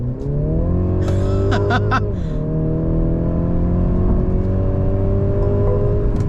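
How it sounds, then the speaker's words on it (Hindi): Mercedes C300 (2025) accelerating at full throttle, a loud close engine note climbing steadily in pitch with a brief dip as the gearbox shifts, then rising again, heard from inside the car. "68 पे है, थ्रॉटल प्रेस किया"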